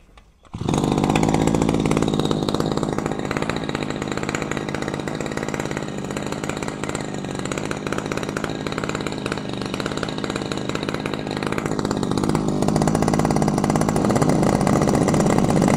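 A Saichi SC 338 brush cutter's small two-stroke engine runs continuously at a steady idle, a loud buzzing drone close by with no talking.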